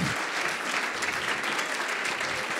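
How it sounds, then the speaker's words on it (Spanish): Conference audience applauding steadily at an urban cycling congress, a dense sustained clatter of many hands, fairly loud and close, with no talking over it. "dándole un aplauso"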